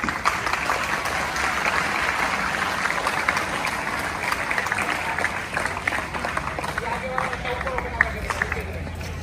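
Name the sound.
audience applause at a ceremony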